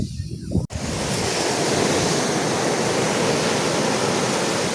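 Ocean waves break continuously on Muttom beach, a loud, broad wash of surf with wind buffeting the microphone, preceded by a brief quieter moment.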